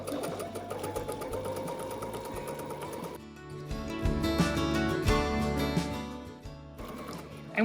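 A sewing machine runs a blanket stitch around an appliqué on perforated stabilizer, a steady close mechanical whir with a short pause near the middle before stitching resumes.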